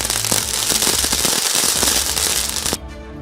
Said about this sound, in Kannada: ಕಾರ್ಯಕರ್ತರು ಪಟಾಕಿ ಸಿಡಿಸಿ